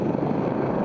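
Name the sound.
AGL helicopter flying over runway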